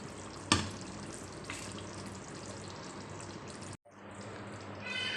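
Fish fries in a pan for a fish curry with a steady soft sizzle. A sharp clatter sounds early on, and the sizzle drops out for a moment near the end.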